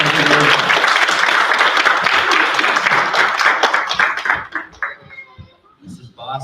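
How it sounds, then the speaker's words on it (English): Audience applause for a class of second graders at a school speech meet, dense and steady clapping that thins out into scattered claps and faint voices near the end. "Another big round of applause for Mrs."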